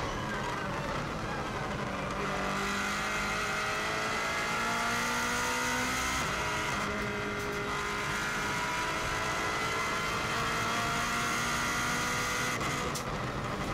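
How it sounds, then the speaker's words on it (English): A 2016 Subaru WRX STI race car accelerates flat out on the Isle of Man TT course, its engine note climbing steadily through the gears in a loud, continuous in-car roar with brief dips at shifts. "You can see how much quicker this car accelerates from the 120 right the way through to 170."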